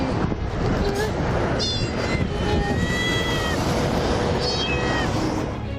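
A small, frightened kitten mews repeatedly from a road safety barrier in New York City traffic, thin rising cries over a constant rumble of passing vehicles.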